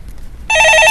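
A telephone starts ringing suddenly partway through in a stock-market call-in broadcast studio, a loud, close electronic trill of warbling tones after a quiet moment, with no talking.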